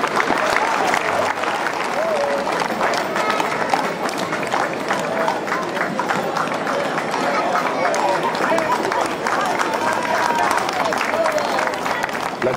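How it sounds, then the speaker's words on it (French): Carnival crowd applauding an equestrian troupe's riding display, a dense continuous wash of clapping and cheering that stays loud and even throughout, with chatter mixed in. "On peut les applaudir."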